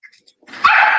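A 13-year-old dog gives a brief close whimpering bark: faint yips first, then one loud drawn-out cry.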